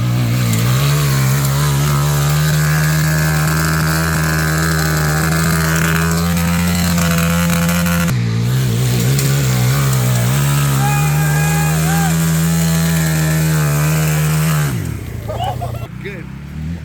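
A Honda motorcycle engine revs hard at a gymkhana-style event at a cycle shop, droning loud and close with a steady pitch that drops briefly midway before fading out, while voices talk over it.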